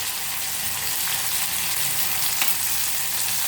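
Chopped onions sauté in hot oil in a pan with a steady, close, even sizzle and crackle that runs unbroken throughout, with no voices over it.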